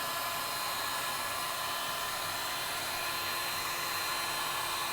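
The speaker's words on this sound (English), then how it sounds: "keeping the heat gun about 3 inches away from the board." A heat gun on its low setting blows steadily about three inches from the back of an Xbox 360 circuit board, a continuous loud hot-air whoosh with a faint tonal whine and no talking.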